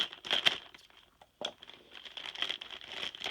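Plastic packaging on a subscription mail package crinkles and tears in irregular bursts, close by, with a brief pause midway before the rustling resumes steadily.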